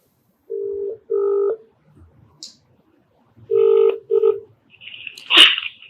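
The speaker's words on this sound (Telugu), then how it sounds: "నాకు నెంబర్ కూడా షేర్ చేశారు, ఒకసారి కాల్ చేస్తానండి" A phone number is dialed for a call, with a series of short steady keypad tones in two groups, clear and close, followed by a brief noisy burst at the end.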